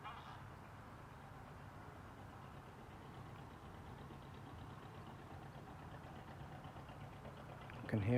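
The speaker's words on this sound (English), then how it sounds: "I can hear a boat, just see the top of it moving over there," A distant boat engine on the Norfolk Broads gives a faint, steady low drone with a soft, even rumble throughout, rising slightly in level right at the end.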